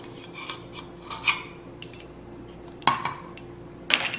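A small measuring spoon scoops baking powder from a container for pancake batter, producing soft scraping rubs and a few light metallic clinks and taps, quiet and close.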